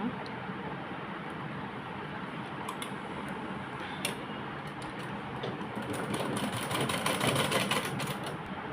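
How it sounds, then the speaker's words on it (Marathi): A sewing machine stitching fabric for a Krishna costume runs with a steady, fast mechanical whirr and rapid ticking that grows a little louder toward the end, heard at close range with no talking. "दोन्ही साईडनी मी शिलाई मारून घेतलेली आहे"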